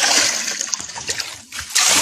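Water splashes and sloshes in steady bursts as a woman scoops it from a hand-dug hole in dry ground, a close, continuous wet spattering with brief pauses.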